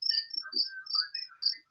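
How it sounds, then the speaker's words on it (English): Crickets chirp in short, high-pitched trills that repeat in quick, uneven pulses, faint and isolated against a quiet background. "How do crickets make that noise?"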